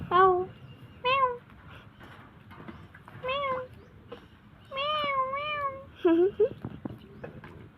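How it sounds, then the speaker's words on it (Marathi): A cat meows again and again at close range, with about five drawn-out, rising and falling cries spaced by brief pauses over a quiet room background. "कस कसं बघतंय बघा मांजर बघा मांजर"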